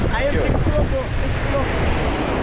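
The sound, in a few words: ocean waves breaking on a beach in Kerala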